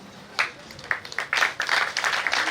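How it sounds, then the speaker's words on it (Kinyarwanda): Scattered hand claps rise into a short burst of applause for the elders at a dowry-giving ceremony, starting sparse and thickening toward the end, moderately distant. "Reka aba basaza babakomera amashyi"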